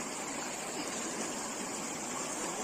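A stream on the Bhorgiri–Bhimashankar trail rushes steadily and loudly in a continuous broad wash of flowing water, with no voices.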